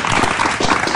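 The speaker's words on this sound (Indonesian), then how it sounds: "Kita berikan tepuk tangan dong." An audience at a televised Indonesian music show claps together in a brief, loud burst of applause close by, with no one speaking.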